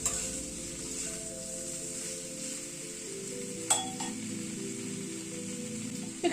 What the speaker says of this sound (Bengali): আবার প্রায় মিনিট 2 সময় ধরে মশলাটাকে আবার কষিয়ে নিলাম।